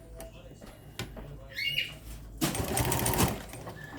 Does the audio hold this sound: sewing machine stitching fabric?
yes